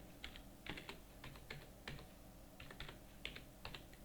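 Rapid typing on a computer keyboard while entering bank account details in Tally Prime accounting software: clusters of light clicking keystrokes in uneven bursts with short pauses, close and fairly quiet, with no talking.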